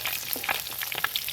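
A snakehead (shol) fish fries in a pan with a brief, close crackling sizzle and scattered spattering pops, fairly quiet and with no voices.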